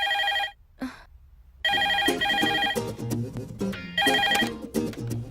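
A telephone rings in a tense Telugu action film scene, sounding repeated loud electronic trills in bursts with short gaps between them, alone and without talk.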